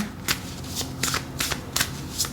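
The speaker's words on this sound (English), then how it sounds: "I do just want to pull the cards here" A deck of tarot cards being shuffled by hand, with a series of about six quick riffling bursts in an uneven rhythm, close-up and clear, with no one talking.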